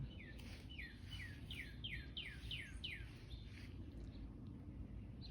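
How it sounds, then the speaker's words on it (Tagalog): A bird repeats a quick series of bright, descending chirps, a run of about eight notes, heard outdoors in a backyard garden over a steady low rumble of strong wind. "ang ganda naman ng huni ng ibon na yan"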